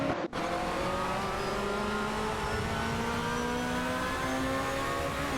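Porsche 911-997 GT3 RSR and Dodge Viper GT2cc race cars in a video game, engines droning loud and continuous with rising tonal whine, several cars overlapping throughout.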